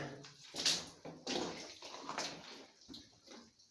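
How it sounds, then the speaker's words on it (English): Water runs and splashes unevenly at a moderate distance inside a tunnel, with a hollow, echoing quality and a few sharper drips standing out. "You can hear water running up there"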